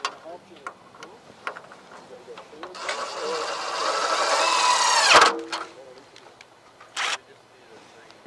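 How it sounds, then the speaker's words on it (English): A power drill drives a tech screw into a Grower's Solution 16-foot Dakota greenhouse frame, a close, rising whine lasting about two and a half seconds that ends abruptly, with talk before and after. "it's a lot easier to put a little pre-drill right there with the tech screw that is provided"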